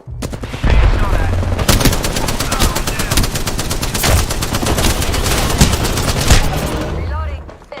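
Rapid automatic gunfire in Call of Duty: Modern Warfare II, loud and dense bursts of shots running almost continuously for several seconds, with faint voices underneath.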